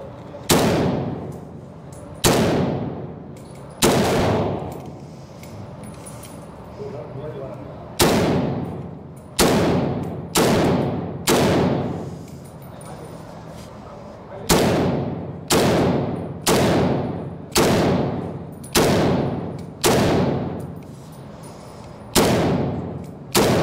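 An AK-47 rifle fires single shots, each a loud, sharp crack with a quick decaying echo, some coming in quick pairs and others after pauses of a few seconds, up close at an outdoor range.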